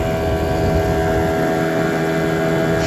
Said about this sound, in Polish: Silnik 6 koni,